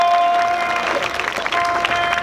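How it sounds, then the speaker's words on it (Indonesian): Audience applause and crowd noise at a live concert in Yogyakarta, a steady dense wash of clapping filling the whole stretch at fairly loud level. "Tolong beri tepuk tangan buat kalian semuanya."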